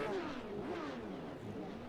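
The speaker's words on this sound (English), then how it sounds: "You can hear a couple of drivers just spiking the revs here and there, getting ready to go." Porsche race cars in a sim racing game rev their engines before the start at Hockenheim, producing a continuous rough engine drone with rising and falling revs that fills the whole moment.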